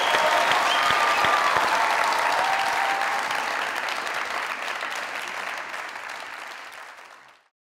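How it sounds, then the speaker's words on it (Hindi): Studio audience at a comedy talk show bursts into loud, dense applause that holds steady for several seconds, then thins and fades out to silence. "तालियां"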